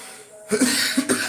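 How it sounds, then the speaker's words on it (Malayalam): A few short, close coughs in quick succession, with a quiet pause before them. "ഒരു ചുമ പിടിച്ചതിൻ്റെ ഉപ്പടം ഉള്ളു കേട്ടോ"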